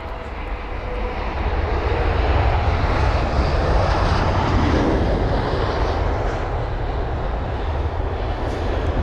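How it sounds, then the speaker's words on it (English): An Aer Lingus Airbus A320-200 at London Heathrow produces a loud, sustained jet engine roar that swells slightly and holds steady, with no voices over it. "That is an Aer Lingus A320-200 from Shannon."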